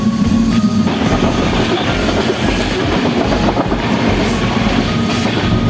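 A moving passenger train between Dhaka and Dinajpur, Bangladesh, rumbles steadily with continuous rail noise and faint clattering of wheels, loud and close, with no voices.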